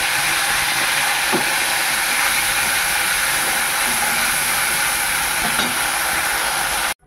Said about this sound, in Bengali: মাছ ভাজা চাপিয়ে দিয়েছি, মাছ ভাজা হচ্ছে।